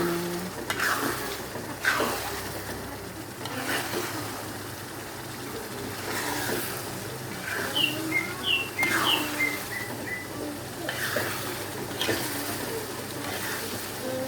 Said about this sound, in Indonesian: Diaduk-aduk terus biar nggak gosong bawahnya.